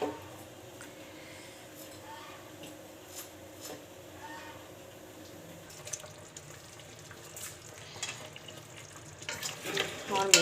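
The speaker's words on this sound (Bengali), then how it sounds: "ওই ডাউলটা এবার একটু নেড়ে ওঠাই এর ভিতরে তেলে দিয়ে ফেলি" Dal is stirred in hot oil, frying with a low steady sizzle and occasional scraping and clattering that grow busier toward the end.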